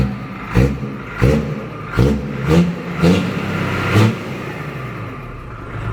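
A Fuso 225 hp truck engine is revved hard in about six short, evenly spaced throttle bursts, each swelling and dropping back to idle. It is close and loud, with no talking.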